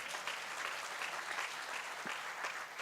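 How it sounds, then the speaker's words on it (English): A conference audience at an African road-safety event gives a big round of applause. The clapping is dense, even and sustained, at moderate loudness, with no clear talk over it. "A big round of applause."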